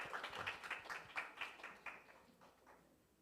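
A church youth service congregation claps for the worship team, a few seconds of scattered, fairly faint applause that thins out and fades toward the end.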